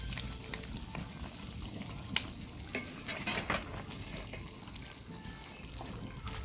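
Scallion, onion and sweet pepper fry gently in butter in a pot for Jamaican curry chicken, a quiet low sizzle with occasional utensil clinks and stirring, close but soft.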